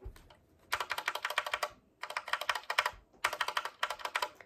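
A custom mechanical keyboard with Gateron yellow switches and a pink escape keycap is typed on in three quick bursts of rapid, crisp clacks, with short pauses between them, close and clear.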